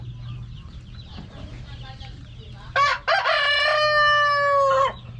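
Faint clucking and farm noise, then a loud, close rooster crow rings out, long and drawn, briefly broken before trailing off.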